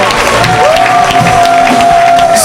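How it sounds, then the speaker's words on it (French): A church congregation cheers and applauds in a sustained, loud crowd roar during a worship service, with a steady sung or held tone running through the noise. "Donne-lui une grande acclamation."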